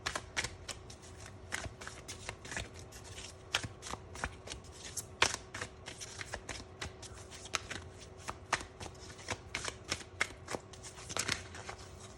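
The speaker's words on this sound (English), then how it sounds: "now let's check out some tarot cards to see what else people find attractive about you" Tarot cards being shuffled by hand at close range, a steady run of crisp riffling snaps and soft slides repeating throughout with no talking.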